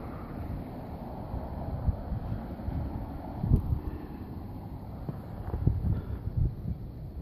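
Gusty wind roars during a heavy snowstorm in Lawrence, Massachusetts, a steady low rumble with buffeting bursts against the microphone.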